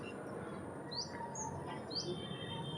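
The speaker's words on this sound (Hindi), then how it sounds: "देखिए यहाँ पे चिड़ियों की आवाज़ आती है," Small birds chirp outdoors, a few short bright calls popping out at intervals over a steady hiss of background ambience, fairly distant.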